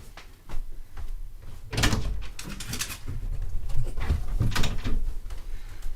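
A house door opens to let a dog in, with a few knocks and clunks of the door and latch, then some shuffling and scrabbling nearby, all heard with no talk.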